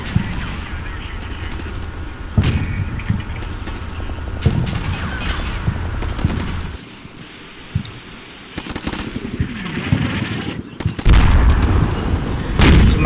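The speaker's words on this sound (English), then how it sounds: "my strikers are beginning to engage and suppress the trench on the left" Strykers suppressing an enemy trench in the Combat Mission: Shock Force war game, with scattered loud gunfire bursts and booming impacts spread across the stretch, a brief quieter lull in the middle before firing resumes.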